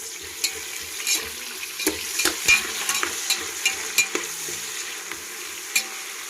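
A spoon stirs chicken curry with mint and coriander frying in a pan, giving irregular close scrapes and clatters over a continuous soft sizzle.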